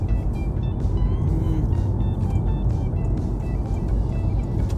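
Road noise fills the cabin of a new Honda Prelude while driving, a constant low rumble of tyres and wind at steady volume, with faint high tonal chirps layered over it.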